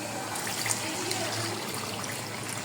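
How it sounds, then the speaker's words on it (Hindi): A glass of water poured into a kadai of browning beef pieces, a steady continuous splashing rush that is loud and close from start to finish, with no voices. "अब हम इसमें शामिल करेंगे 1 गिलास पानी।"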